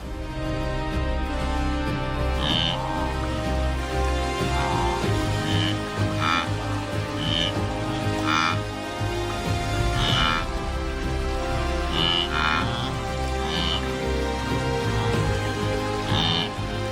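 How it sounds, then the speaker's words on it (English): Heavy rain pours over open grassland in a steady, loud, continuous wash, with scattered brighter drops and faint animal calls poking through now and then. "Then the first heavy rain arrives, sudden, powerful, and full of promise."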